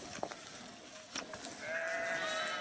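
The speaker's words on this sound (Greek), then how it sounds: "ο ήχος των προβάτων" Sheep bleating in the open near a village, a couple of faint distant bleats followed by a longer sustained call toward the end, over quiet outdoor ambience.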